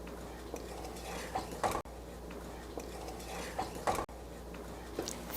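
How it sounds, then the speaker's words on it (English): A spoon stirs boiling candy mixture in a pot in a home kitchen, giving soft scraping and faint clinks against the metal, quiet with occasional louder knocks. "Feverishly stirring over here."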